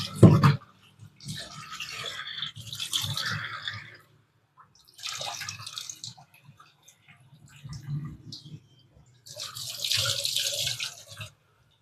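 Running tap water splashes over chicken being washed with turmeric in a kitchen sink, coming in several bursts separated by short pauses, with handling and dripping sounds in between.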